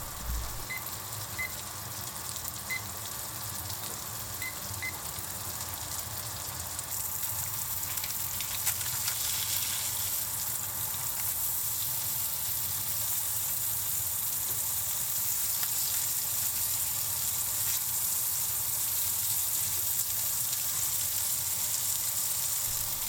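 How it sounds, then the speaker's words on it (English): A tuna steak searing in a hot pan makes a loud, continuous broadband sizzle. It holds steady throughout, brightens after a few seconds, and has faint occasional pops, close up with no speech. "After adding the tuna, wait for 30 seconds, then flip it and cook for another 20 seconds."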